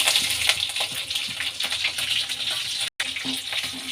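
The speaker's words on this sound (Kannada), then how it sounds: "ಎಣ್ಣೆಲಿ ಫ್ರೈ ಮಾಡ್ಕೊಳ್ಳೋಣ" Mustard seeds and green chillies frying in cooking oil, a dense continuous sizzle with small crackles and pops, close and steady, briefly cut by a silent gap.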